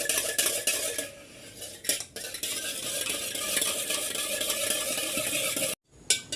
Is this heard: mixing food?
yes